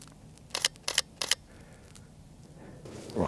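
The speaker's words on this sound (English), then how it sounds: "I'm going to shoot one at f2 just to see what it looks like." A camera shutter fires three times in quick succession outdoors in a foggy, frosty woodland, crisp close clicks over quiet background.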